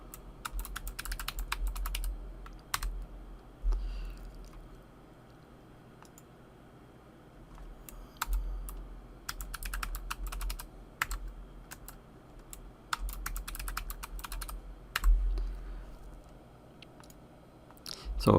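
A computer keyboard is typed on in quick bursts of clicky keystrokes separated by short pauses, close and fairly quiet, with no talking.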